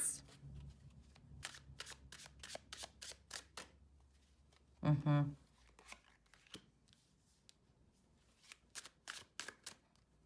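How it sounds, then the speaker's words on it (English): Tarot cards shuffled in crisp, rhythmic riffles close to the microphone, with a brief louder burst midway and quiet pauses between the runs. "Keep shuffling."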